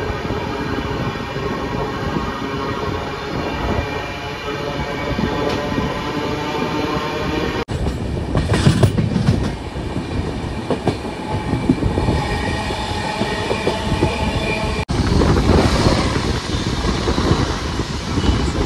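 The Vishwamanava Express, running from Mysuru to Belagavi, rolls past nearby during a crossing: a loud, sustained roar of wheels and passing coaches with a steady rhythmic clatter that holds throughout, with no talking.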